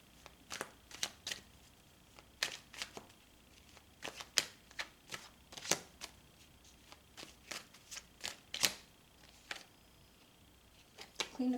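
Tarot cards being shuffled, a long run of quick crisp riffling snaps and slaps in irregular bursts, close and fairly soft, with no talking.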